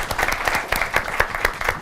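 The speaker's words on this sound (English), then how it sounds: "Everyone, please give me applause" A burst of audience applause, many hands clapping together in a brisk, steady patter without any talking.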